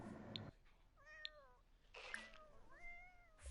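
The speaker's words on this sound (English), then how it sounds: "It's a cat." A cat in The Sims 4 meows several times in a row, clear rising and falling calls spaced across a few seconds over quiet game ambience.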